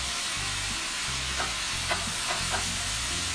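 Sausage, garlic and onions sautéing in avocado oil in a pan, a steady low sizzle with a few soft stirring scrapes scattered through, moderately close and without voices.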